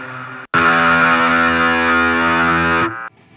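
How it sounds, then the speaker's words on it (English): A distorted electric guitar chord played through a Guitarix foot-pedal effects setup rings out loud and sustained for over two seconds, then cuts off abruptly, preceded by a brief plucked note. "A couple of different distortion effects on here."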